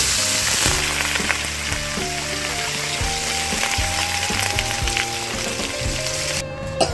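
Chillies fry in a pan, giving a loud, steady, close sizzle and crackle that lasts throughout, with occasional stirring clinks and background music playing underneath.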